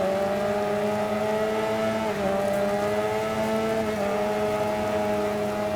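Racing motorcycle in the RIDE 4 game on a drying Brands Hatch track during an endurance race, a steady high engine whine with brief pitch dips as it shifts, continuous and prominent.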